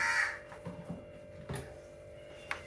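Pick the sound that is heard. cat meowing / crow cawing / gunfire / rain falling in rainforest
crow cawing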